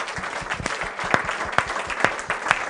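Applause from an audience at a local democracy panel gathering, a steady dense patter of many hands lasting throughout, with a few sharper claps standing out near the front.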